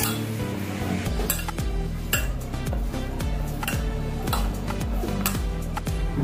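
Utensil clinks and scrapes against a bowl as Veg Manchurian batter is mixed with soy sauce and salt, a steady run of close metallic clatter under a constant droning background hum, with no talking.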